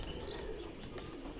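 A pigeon takes off from an old breeder's loft in light afternoon sun. Its wings flap briefly, close and clear, against steady outdoor background noise.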